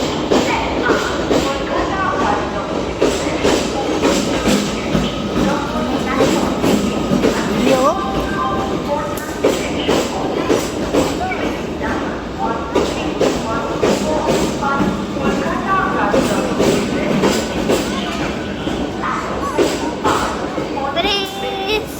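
A railway station where passengers wait for a train. Constant crowd chatter and children's voices run throughout, with rail and platform noise mixed underneath.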